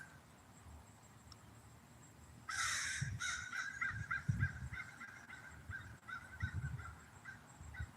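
Several crows caw in bursts of harsh, repeated calls from a moderate distance outdoors near a city hall, starting after a quiet moment and recurring in clusters over low background noise.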